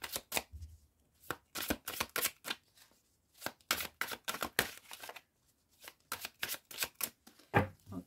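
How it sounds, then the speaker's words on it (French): A deck of tarot cards being shuffled by hand in a quiet room, a series of short, crisp riffling bursts with brief pauses between them, close up and fairly soft. "je vais mélanger toutes les cartes pour avoir votre intention"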